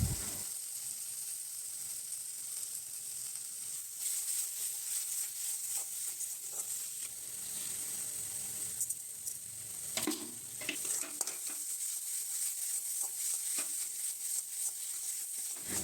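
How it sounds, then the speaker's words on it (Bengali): Spice paste for an egg and soybean curry sizzles and hisses softly in a pan while it is stirred and fried, with occasional scraping, fairly quiet and with no voices. "সব কিছু দেওয়া হয়ে গেলে মশলাটাকে ভালোভাবে কষিয়ে নিতে হবে।"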